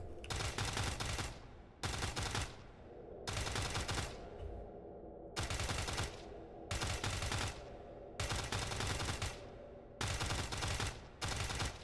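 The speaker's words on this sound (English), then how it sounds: "Is this a machine gun?" Machine gun fire in a video game, with about eight sustained, loud bursts of rapid automatic shots separated by short pauses, heard on its own.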